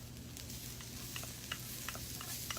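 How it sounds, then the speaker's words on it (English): Onions sizzle on a hot grill alongside Brussels sprouts, a steady, faint, close frying hiss with scattered light pops and crackles throughout. "adding my onions."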